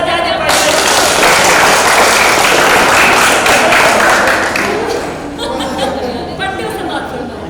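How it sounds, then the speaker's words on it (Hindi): An audience at a kavi sammelan and mushaira poetry event breaks into loud, dense applause that lasts several seconds, then fades into scattered claps and murmuring voices. "एक बार जोरदार ताली बजा दें"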